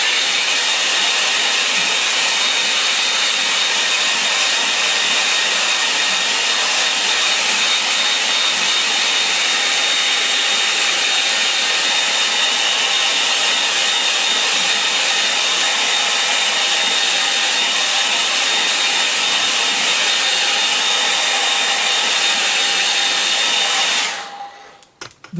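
A hair dryer blows continuously and loudly close by, drying a watercolour painting on A4 paper, a steady roaring hiss lasting over twenty seconds before it switches off at the end.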